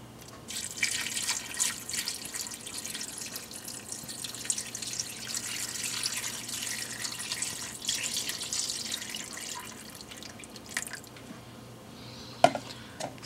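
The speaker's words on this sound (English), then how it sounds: "I'll just add the liquid" Liquid pours and trickles into a crock pot stew, a continuous close splashing stream that eases off near the end, followed by a brief clink.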